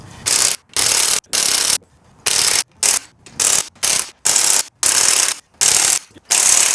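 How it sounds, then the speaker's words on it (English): An impact gun rattles off the head bolts of a Honda Integra B20 VTEC engine, firing about ten short, loud, close bursts with brief gaps between them. "take these head bolts off with this big bad gun"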